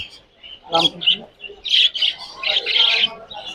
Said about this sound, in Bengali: এখানে লাভার্ট আছে, লটিনো, রেড ফেস, রেড আই, বাজরিক আছে।